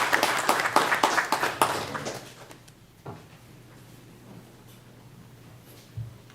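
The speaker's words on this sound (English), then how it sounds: "let's give them another round of applause." Applause from the audience at a school board meeting: claps ring out for about two seconds, then fade into a quiet room with a low steady hum.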